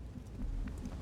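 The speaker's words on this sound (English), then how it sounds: "Storm out here" Rain and low rumbling thunder from a storm in an XCOM-style tactical video game, a soft, steady wash with a brief distant roll of thunder.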